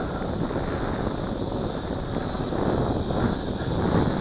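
Steady broadband wind roar buffets the microphone outdoors during a folding follow-me drone's return-to-home landing test, constant and fairly loud throughout with no speech.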